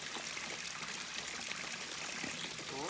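Water from a forest stream trickles and flows in a faint, steady rush that continues without a break through the whole clip.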